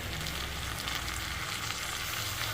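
Ginger garlic paste fries in a pan of mixed chicken, mutton and prawn biryani, giving a loud, steady sizzle that runs unbroken from start to finish with no voices.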